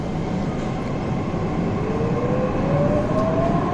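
A Mumbai Metro Line 2A/7 train accelerates, with a steady rumble of the car rolling on the track and a rising electric motor whine that climbs in pitch as it picks up speed.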